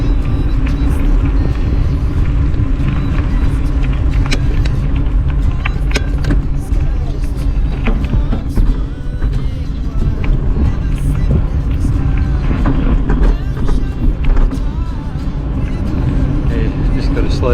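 A vehicle rumbles along a rough back road on a rail trail, jolting over cattle grates with loud engine and road noise throughout and occasional knocks, while people talk inside the cabin.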